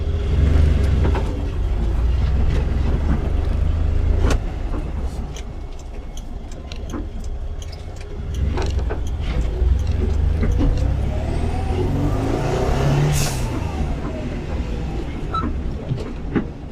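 Ford Anglia car on a test drive, its engine droning steadily from inside the cabin with rattles and ticking over the road, the tone rising and falling as it accelerates.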